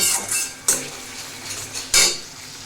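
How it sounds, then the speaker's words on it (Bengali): Chicken masala is stirred in a cooking pan with a metal utensil, giving steady scraping and rustling with a faint sizzle, broken by two sharper clinks of the spoon against the pan. No one speaks. "ততক্ষণ এটাকে ভালো করে নাড়তে হবে যাতে মশলাটা যাতে বসে না যায়"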